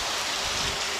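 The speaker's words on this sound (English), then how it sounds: "this rain is blowing, trying to chase me off" Wind-driven rain blows onto a veranda as a dense, steady, hissing wash of drops with no breaks.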